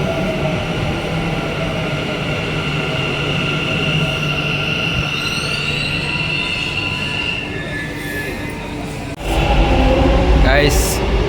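A Bengaluru metro train runs between Majestic and Jayanagar with a steady rolling rumble and long squealing wheels, loud and close inside the car. A louder burst of rail noise comes near the end, with faint voices underneath.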